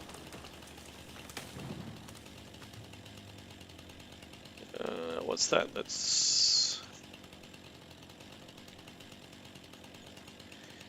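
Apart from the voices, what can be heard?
chainsaw cutting a tree in the video game Farming Simulator 25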